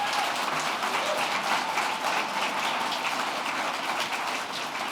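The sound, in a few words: audience applause for young people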